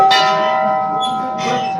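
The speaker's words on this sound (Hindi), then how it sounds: "ये जो सारी घंटियाँ हैं" Many bells ring together at the Golu Devta temple in Chitai, Almora, Kumaon, with bright, sustained metallic tones layered over each other and fresh strikes near the start and again toward the end.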